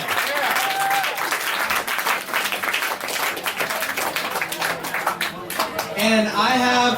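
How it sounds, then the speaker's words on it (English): An audience at a Bernie Sanders 2016 campaign event at Dogwood in Beacon breaks into loud, sustained applause and clapping, with cheers and voices mixed in and a brief spoken voice near the end. "Give a round of applause for George and Dogwood."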